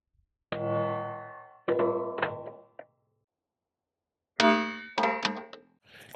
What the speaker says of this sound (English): I'm gonna drop it again.